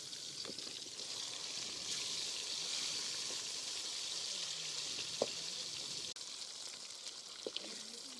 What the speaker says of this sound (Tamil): ஊற வச்ச சிக்கன் பொரிச்சு எடுத்துக்கலாம்